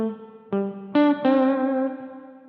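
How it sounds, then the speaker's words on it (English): An electric guitar through the plate reverb setting of a Donner Verb Square pedal plays a few plucked notes and chords, each ringing out with a smooth, lingering shimmer that fades slowly; no voices. "Going up to the plate reverb is another kind of standard."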